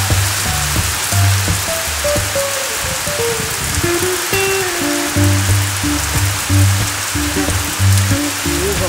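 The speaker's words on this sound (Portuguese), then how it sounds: "agora a chuva tá intensa" Heavy rain pours down in a dense, loud, continuous roar close by, with a low tonal hum running underneath and no talking.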